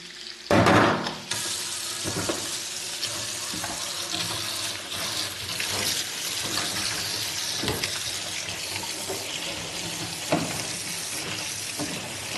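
Hot water gushing steadily from a kitchen tap into a sink, a loud continuous rush with splashing that swells briefly near the start and runs on alone without talk.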